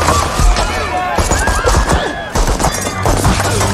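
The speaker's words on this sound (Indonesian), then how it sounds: "Tapi tiba-tiba sekelompok anak buah Rinho menyerbu klub dengan rentetan tembakan." A dense fusillade of gunfire in an action film's club shootout, rapid loud shots and impacts packed together across the whole stretch with crashes mixed in.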